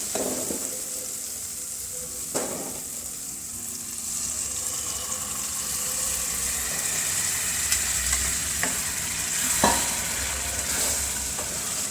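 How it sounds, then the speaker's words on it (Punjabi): Chopped turnips are mixed into softened spinach sizzling in a pan, a continuous close fry hiss with occasional scrapes and clinks of a spoon against the pot as it is stirred. "ਸ਼ਲਗਮ ਪਾ ਕੇ ਚੰਗੀ ਤਰ੍ਹਾਂ ਆਪਾਂ ਨੂੰ ਮਿਕਸ ਕਰ ਦੇਵਾਂਗੇ"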